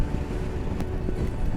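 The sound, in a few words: wind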